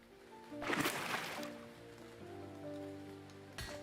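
Game rain from Mountaincore, a mountain-building sim, patters as a soft continuous hiss beneath background music, swelling with a louder splashing burst early on and a short rush near the end.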